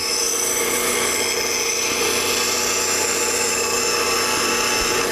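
A bench grinder sharpening a spindle gouge gives a steady, loud, high-pitched grinding whine that continues unbroken, with no talking.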